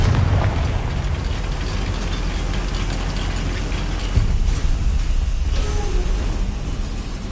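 Confringo fire spell explosion in Hogwarts Legacy, a loud rumbling blast that bursts at the start and then roars and crackles on with a thick, noisy fiery wash that slowly settles.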